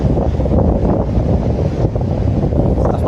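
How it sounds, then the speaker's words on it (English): Loud wind buffeting a microphone at Brighton Pier, a constant low rumble with gusty surges throughout and no voices. "It's a bit windy here as well."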